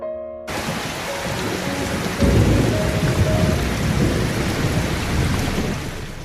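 Heavy rain pours down hard and steady while low rumbling thunder rolls underneath, the downpour growing louder after a couple of seconds.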